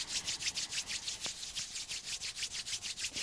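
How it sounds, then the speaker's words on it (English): Rhythmic brisk rubbing of palms together, a steady swishing friction repeated about five times per second, close and fairly quiet. "rub the palms of the hands in front of your chest"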